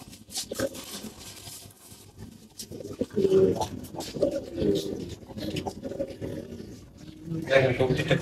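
A pigeon in a loft coos in low, throaty bursts, alongside people talking and shuffling in the background.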